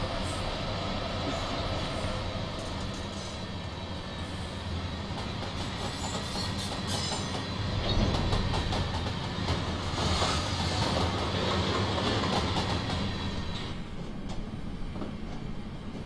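A heavy video-game train, an ÖBB 1116 locomotive on the Semmeringbahn in Train Simulator 2016, rumbles past steadily, with rhythmic clacking of wheels over rails and a constant low roar, loud and close throughout.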